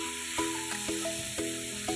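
Vegetables with salt and turmeric being stirred in a hot pan, a soft steady sizzle broken by several scraping stirring strokes roughly every half second, close and fairly quiet, without talk.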